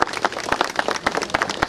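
A crowd applauds the partners, architects and builders at the opening of a lookout tower in Krynica, brisk close clapping with sharp individual claps in a steady, lively rhythm and no voices.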